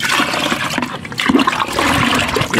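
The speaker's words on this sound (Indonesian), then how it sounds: "Lanjut kita masukkan abamectinnya nih teman-teman, yang tadi udah kita aduk." Liquid abamectin pesticide pours into a sprayer mixture for chili plants in a loud, steady gush that splashes and gurgles throughout, close by, with no voices.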